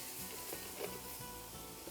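Sliced onion and bell peppers cook in a pan with fajita seasoning, a faint, even sizzle heard close up for a couple of seconds with slight stirring.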